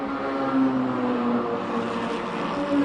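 Ligier race cars with Honda four-cylinder engines running in an endurance race, a steady loud engine drone with tonal hums rising and falling as the cars hold speed.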